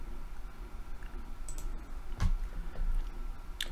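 A computer mouse gives a few sparse, quiet clicks over a faint room background, with one slightly sharper click partway through.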